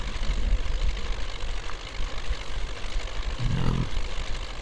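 An MTZ 82.1 tractor engine in the off-road driving game Spintires: Mudrunner rumbles steadily at low speed, a continuous mid-level droning chug with a brief whining rise near the end, heard without talk.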